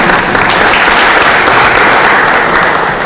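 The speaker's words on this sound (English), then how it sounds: "Round of applause" Participants at a leadership workshop applaud in a loud, dense, continuous burst of clapping that stays close and even throughout.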